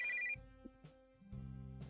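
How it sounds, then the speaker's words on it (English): Phone ringing in the video game Tailor Tales, a short bright electronic ring at the start followed by soft game tones and low thuds, brief and fairly quiet, no talking. "My phone starts to ring."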